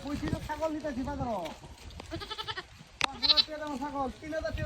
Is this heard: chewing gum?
no